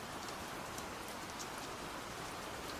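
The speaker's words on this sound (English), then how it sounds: "So the sound of rain is there." Steady rain falls outside behind the person, a continuous dense patter of drops on surfaces, close and even throughout with no voices.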